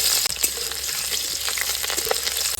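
Chopped onion frying in hot oil in a village kitchen wok, a steady close sizzle with soft stirring clicks and scrapes throughout, no voices.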